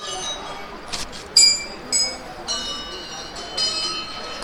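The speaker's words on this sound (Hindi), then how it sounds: "तो ये आप सब देख सकते हैं कि इतनी सारी घंटियाँ श्रद्धालुओं ने, भक्तजनों ने चढ़ा रखी हैं।" Small metal bells at the Golu Devta temple in Uttarakhand ring out in several separate bright strikes, each with a shimmering decay, over a faint hum of background activity.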